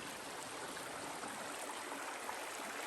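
A creek flows in the shade along the Pacific Crest Trail, a steady, soft hiss of running water that stays even and continuous with no voices.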